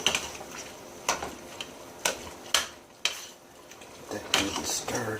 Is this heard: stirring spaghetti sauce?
yes